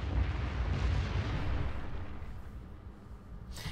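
Distant cruiser gunfire from a Chapaev in World of Warships rumbles as a low, sustained booming roll, moderately quiet and blending into one continuous thunder over a few seconds.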